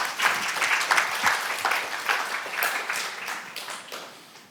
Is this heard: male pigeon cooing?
no